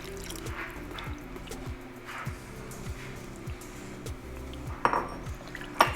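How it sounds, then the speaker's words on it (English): Hot water is poured into a pan of dry shrimp khichadi cooking with coconut milk, a soft continuous splashing pour with a few sharp clinks of a utensil against the pan near the end, close and quiet. "I'm going to add about 4 1/4 cups of hot water to this now."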